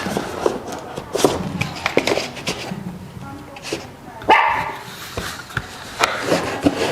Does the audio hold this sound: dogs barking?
yes